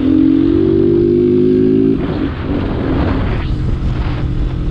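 A Honda Titan 160 motorcycle accelerating hard toward top speed on a short straight, its engine note rising loudly before giving way to heavy wind rush and continued engine roar.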